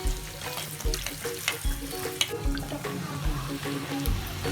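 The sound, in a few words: bhatura frying in hot oil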